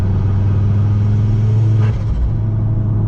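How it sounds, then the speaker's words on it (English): A Ford Focus RS Mk2 engine cruising in fifth gear at 2000 RPM gives a loud, steady low rumble that dips briefly near the end, heard close with no voices. "But this car does sound amazing. This is at 5th gear, 2000 RPM."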